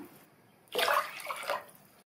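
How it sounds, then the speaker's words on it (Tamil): Six cups of water poured into a pot of soaked rice and lentils for sambar rice, a brief splashing gush that starts abruptly, rises, then cuts off, fairly close and with no talk. "ஆறு கப் தண்ணி சேர்த்துடலாம் அரிசி எடுத்த கப்பில் ஆறு கப் தண்ணி"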